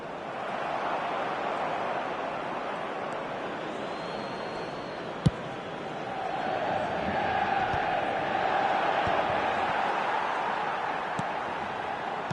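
Stadium crowd noise from a football video game, a steady broad roar that swells slightly in the second half, with a single sharp click midway and no speech over it.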